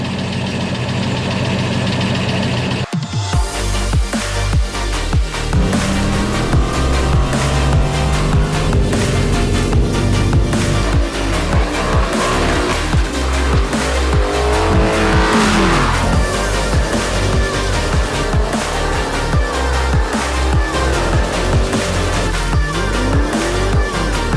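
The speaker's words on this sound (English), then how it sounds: "There's like a weird rattling noise coming out of it." Engine of a Shelby GT500 Mustang with about 9,000 miles runs loud and close, with a persistent rattling, knocking texture riding over the revving roar after a brief quieter idle at the start.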